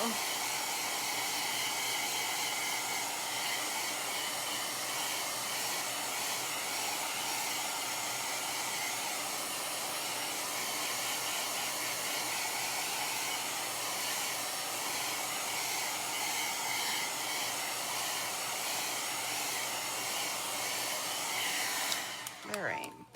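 A heat tool blowing hot air to dry a Chalk Couture craft surface after washing, a loud steady whirring hiss that runs nearly the whole time before cutting off at the end.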